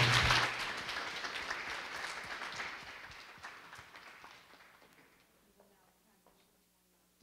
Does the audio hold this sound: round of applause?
yes